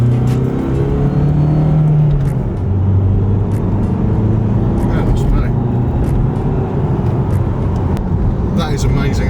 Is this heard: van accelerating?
yes